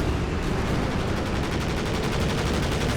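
Dense, continuous rapid gunfire with a rifle grenade launch during a competitive first-person shooter match, loud and sustained throughout with no pauses or talk.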